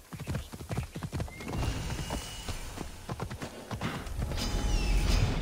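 Horse hooves clip-clop in the video game Assassin's Creed Odyssey, first in a quick, rhythmic gallop and then slowing to looser steps, with game ambience underneath.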